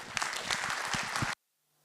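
Lecture-hall audience claps warmly for an art-market lecturer, with a short, dense round of applause that cuts off abruptly into silence.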